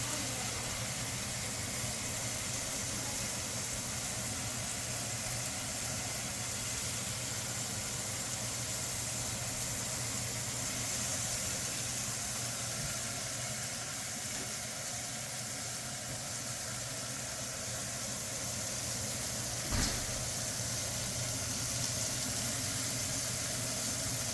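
Breakfast sausage and bacon sizzle on a griddle with a steady, even hiss that holds throughout, broken once by a brief faint click.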